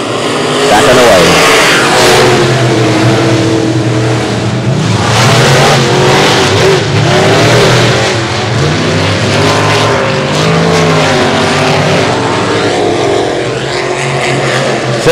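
Fremont race cars on Hoosier F40 slick tires roar around the slick asphalt of Boothill Speedway, loud, sustained engine drones rising and falling as the pack passes, with an announcer talking over the noise.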